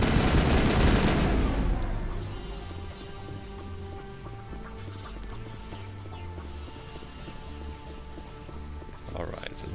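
Gunfire in the Mass Effect video game on the Virmire mission rattles out in a rapid, loud burst at the start, then fades into a quieter, steady game ambience.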